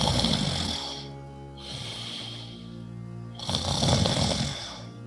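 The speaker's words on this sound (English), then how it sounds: "Sounds like snoring" Heavy snoring from someone asleep behind a closed door, three long rasping breaths in slow rhythm, loud and close with a muffled quality.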